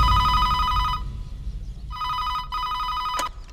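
An electronic telephone bell rings indoors in two loud bursts separated by a pause, with a low background rumble beneath and a brief sharp clack near the end.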